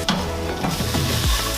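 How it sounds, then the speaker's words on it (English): Turkey sizzles loudly in a hot pan while it is stirred and pushed around, with scraping utensil strokes over a steady frying hiss throughout. "you're just gonna let that go, push it around a little bit"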